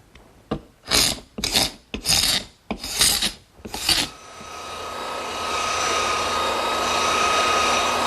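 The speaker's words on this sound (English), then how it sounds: "the first thing I'm going to do is scrape off any excess glue" A scraper is dragged over a wooden table top to lift off excess dried glue, making six rough, rasping strokes. A steady whooshing rush of air-tool noise follows and continues to the end.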